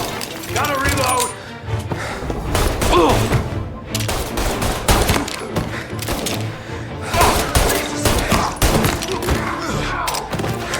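A shootout in Mafia, with repeated loud gunshots and thuds cracking out in irregular bursts. Shouted voices break in now and then among the shots.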